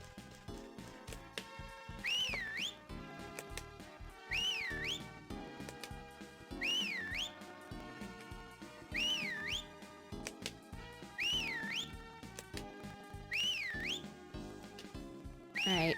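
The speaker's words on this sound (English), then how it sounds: "now you get the beautiful sound of whistling" Character whistling in a farming video game, a short two-note swooping whistle repeated about every two seconds over busy game music and clicking effects.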